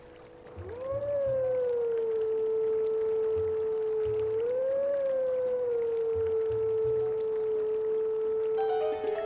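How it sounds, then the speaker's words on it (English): A wolf howls at howling grass in Twilight Princess, playing a sustained, wavering tonal melody that rises and falls in long notes over soft in-game background sounds. "we can also howl at this grass"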